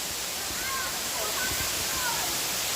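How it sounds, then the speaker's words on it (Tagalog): Balanak Falls, a small but tall waterfall in Paete, Laguna, gives a steady broadband rush of falling water at close range, continuous and fairly loud throughout. "Ang liit lang na waterfalls niya."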